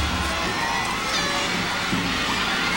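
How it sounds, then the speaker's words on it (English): A big football stadium crowd at a high school game keeps up a continuous roar of cheering and shouting, with no single voice standing out. "Huge crowd tonight."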